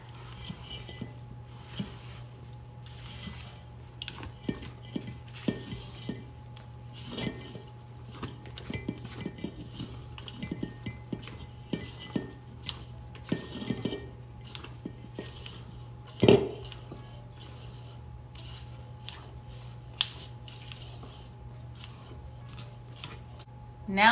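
Sweetened coconut being stirred into cake batter in a bowl for an Italian cream cake, soft scraping and light clinks of a utensil against the bowl in an irregular rhythm, faint and close, with occasional quiet talk.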